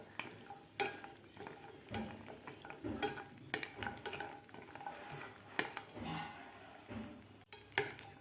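Cashews roast in a pan over medium gas, with a soft intermittent sizzle under repeated light scrapes and clinks of a spoon stirring against the metal, close and fairly quiet.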